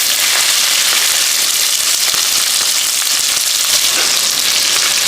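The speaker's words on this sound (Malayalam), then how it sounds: "കടുക്, ഇത് ചെറിയ ഉള്ളി, പച്ചമുളകും സബോളയും കൊടുക്കുക." Mustard seeds, cumin, shallots, green chillies and onion fry in hot oil with a loud, dense, continuous sizzle, close up and steady, with faint crackles and no talking.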